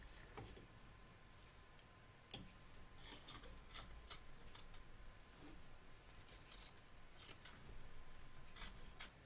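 Scissors trim excess quilt batting around a stitch line on a soft-toy bunny project, giving a run of quiet, crisp rasping snips in irregular bursts, close and faint with no talk.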